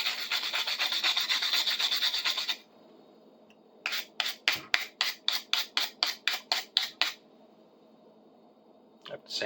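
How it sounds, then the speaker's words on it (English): Sanding on a cast metal nail puller, first a continuous close rasping for a couple of seconds, then after a pause a quick series of about fifteen short, rhythmic back-and-forth strokes, with a last stroke starting at the end. "I have to sand that bit."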